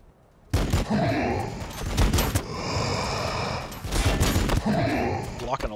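Rapid gunfire in the Warhammer 40,000: Battlesector strategy game, Necron warriors at the front line under fire, dense sustained volleys with bursts of crackle, loud and continuous after a sudden start, with talk mixed in.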